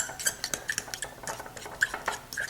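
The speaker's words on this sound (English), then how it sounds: "All right, we're going to mix this all together." A utensil stirs and mashes deviled egg filling in a bowl, with rapid close clinks and taps against the sides in an uneven rhythm and no talking.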